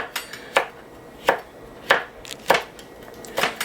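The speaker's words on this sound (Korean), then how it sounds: "이건 사실 뭐 너무 색깔이 하얘니까 모양 내려고 제가 조금 썰어 놓을게요." A knife chops red chili into thin strips on a cutting board, five or six crisp, evenly spaced strokes close up, with no voices.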